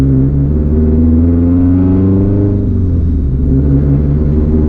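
A loud 2015 Subaru WRX hatchback engine drones heavily from inside the car, with a deep steady rumble whose pitch sags and then settles as it cruises.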